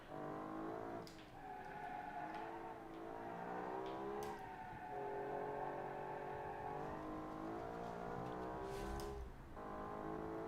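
A naturally aspirated inline-six of nearly 1000 horsepower in the BeamNG driving game revs continuously, its harmonic engine whine rising and falling through several climbs and dips, loud and without talk.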